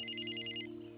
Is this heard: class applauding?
no